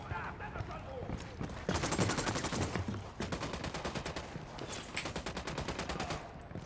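Rapid automatic gunfire from the video game Warface, dense bursts of repeated shots running through most of the stretch, loud and close, with voices calling out over the shooting.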